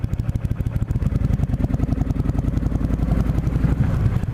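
A motorcycle ridden early in the season, picked up by a microphone inside the helmet, with a loud, close, pulsing engine thump that quickens steadily as the bike accelerates, and heavy rumble throughout.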